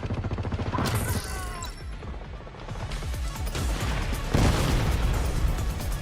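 Auto turret gunfire in The Division, with rapid, steady automatic fire rattling throughout. Crashes and booms punch through the volley, and faint voices sit underneath.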